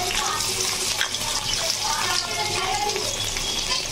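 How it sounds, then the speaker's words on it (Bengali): Shrimp frying with onions in a pan, a continuous busy sizzle with crackling and occasional stirring, steady and close. "এখন আমি চিংড়ি মাছগুলো দিয়ে দিব, এই পেঁয়াজের সাথে ভেজে নিব চিংড়ি মাছগুলো দিয়ে।"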